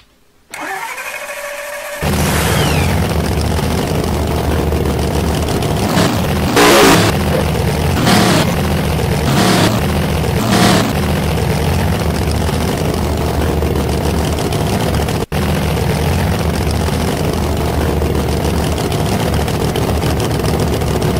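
A drag racing car engine in the rFactor racing game, set up for wheelies and burnouts, fires up and then holds a loud, steady drone with a few sharp revving surges, with no talking.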